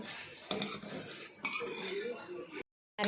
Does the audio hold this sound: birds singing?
no